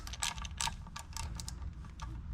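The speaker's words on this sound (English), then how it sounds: "We're going to take our 10 mil ratchet again." A 10 mm ratchet drives a bolt back in on a Mercury 75-115 HP outboard during a service, giving quick bursts of close, light metallic clicking.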